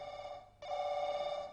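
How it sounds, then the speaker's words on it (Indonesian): An indoor telephone rings with a steady electronic bell tone, fairly faint, getting louder and fuller partway through and continuing without break, with no talking over it. "Wih, telepon."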